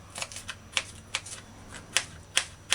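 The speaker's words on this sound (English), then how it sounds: "I just take the sweet pepper and dice it first by cutting it in strips, and then I turn all the strips one way and dice it in cubes." A knife dices sweet pepper strips into cubes on a cutting board, a run of sharp, crisp taps coming in uneven bursts of two or three, close and alone without talk.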